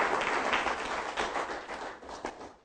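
Audience applause after a talk on cannabis legalization, a steady wash of clapping from a crowd that runs the whole time and thins slightly toward the end, with no voices over it.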